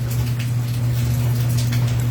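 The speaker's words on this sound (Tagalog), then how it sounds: "Umuulan na naman ng bongga-bongga." Heavy rain comes down in a constant dense patter on surfaces, with a steady low hum beneath it, loud and close.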